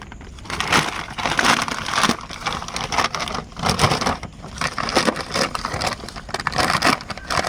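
A young jasmine plant growing in a grow bag being trimmed, with continuous close crunching, snapping and rustling of stems and leaves that stays loud and busy throughout, with no voices.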